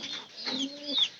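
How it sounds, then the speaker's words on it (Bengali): A pigeon coos softly in a short, low burst, close by and alone, with faint higher chirps from other birds. "পায়রা ডাহে"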